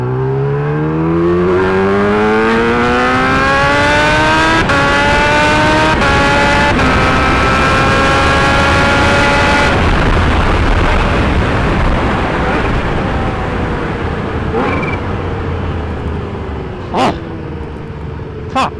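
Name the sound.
Kawasaki Ninja H2 motorcycle accelerating past a car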